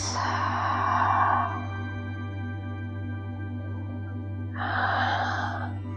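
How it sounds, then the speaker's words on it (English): Deep breathing during a yoga exercise with knees swaying side to side: a long airy exhale at the start, a quiet pause, then another breath near the end, over a steady low hum. "Deep breaths."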